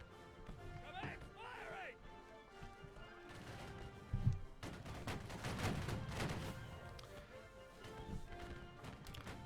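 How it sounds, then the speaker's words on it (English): Musket volley fired in the Civil War-era battle game Battle Cry of Freedom, a burst of gunfire around the middle amid continuous battlefield noise, with voices talking over it. "That's a good volley."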